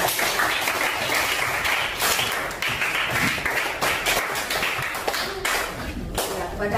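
Classroom of students claps for a presenting group, loud, busy clapping with sharp slaps and thumps running steadily throughout, some voices mixed in.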